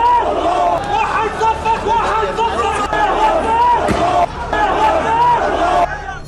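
A large protesting crowd fills a street in Jordan near the Israeli embassy, a dense, loud roar of shouting and chanting voices that rises and surges continuously from close by.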